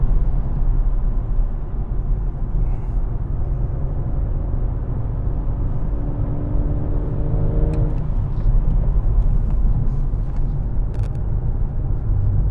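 A BMW M140i taking a slow corner under added throttle gives a steady, close, low engine rumble with a faint rising tonal drone through the middle, then a slightly busier texture toward the end.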